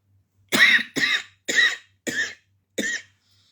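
Five harsh, dry coughs spaced about half a second apart, close and loud, with silence between each.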